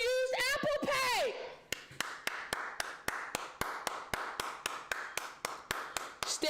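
Slow, evenly spaced mock applause: about twenty single hand claps at a steady, deliberate pace, close and crisp, after a short burst of voice at the start.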